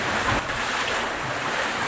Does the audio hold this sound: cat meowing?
no